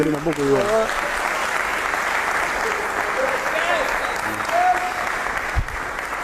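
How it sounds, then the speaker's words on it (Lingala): An audience applauds steadily throughout, a dense, even wash of clapping at a live music event honouring the guitar teacher of a Congolese musician, with a brief voice or cheer near the start. "On va applaudir pour lui."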